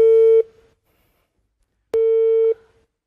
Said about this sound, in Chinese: 行，我现在打电话给王美丽，我开着免提行不行？